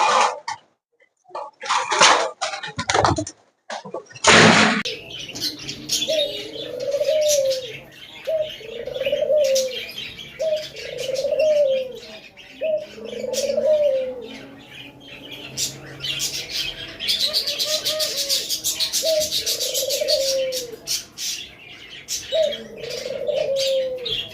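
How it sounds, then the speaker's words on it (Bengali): Pet birds let out of a cage on a bird farm, opening with a burst of loud flapping and clatter, then a steady run of repeated soft coos under busy chirping and tweeting, close and lively. "আমি পাখিগুলাকে কাঁচা থেকে ছেড়ে দিচ্ছি পাখিগুলা দেখুন"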